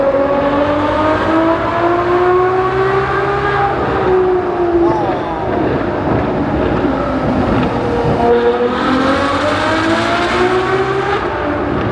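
A sports car engine revs and accelerates on the streets of Monaco, a loud continuous roar with rising and falling pitch sweeps, close by, with voices talking over it.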